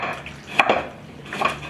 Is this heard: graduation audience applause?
no